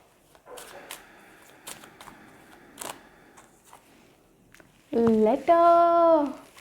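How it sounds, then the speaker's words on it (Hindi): Tarot cards are shuffled by hand, giving a run of soft, irregular papery clicks and riffles for a few seconds. A voice follows, speaking clearly near the end. "सो आपके लिए और अदर कार्ड्स में शफल करती हूँ फॉर माई पाइल नंबर 3."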